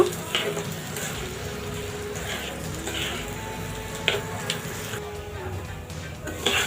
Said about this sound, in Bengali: এখন ভালো করে চালটাকে ভেজে নেব